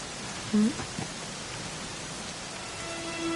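Rain falls in Dragon Quest XI S, a steady close hiss of rainfall with a brief higher tone near the start and a faint tone near the end, with no talk.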